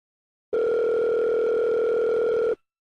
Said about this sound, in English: Pick up the phone if you hear the tone.